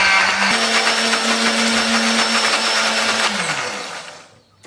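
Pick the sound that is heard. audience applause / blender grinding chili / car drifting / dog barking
blender grinding chili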